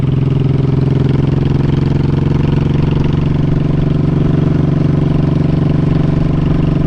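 An old Honda Shadow motorcycle idles close by with a loud, even, continuous engine throb and a steady low pulse that runs unbroken throughout.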